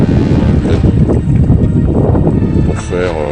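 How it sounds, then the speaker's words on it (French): Steady wind buffeting the microphone with a constant low rumble throughout, loud and close, with a faint voice at the end. "il y a du vent"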